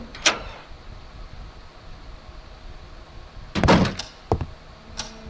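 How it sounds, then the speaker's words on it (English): Key turning in a front door lock in the horror adventure game Scratches, heard as a faint click followed by a cluster of sharp metallic thunks and clacks, then a final knock, over a quiet room tone. "With very little effort, the key unlocked the front door."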